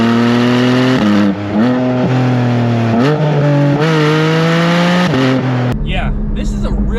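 Porsche 718 GT4 engine revving hard through manual gear changes, loud sustained rising pitch broken by brief dips at each shift, ending abruptly with a lighter clattering sound.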